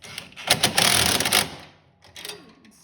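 A 14mm socket wrench tightening the bolt of an ice scratcher on an Arctic Cat ZR RXC snowmobile, a close burst of rapid ratcheting clicks, then a pause and a shorter second run.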